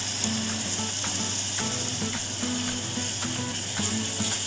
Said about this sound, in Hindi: बहुत अच्छे से हम फ्राई कर लेंगे।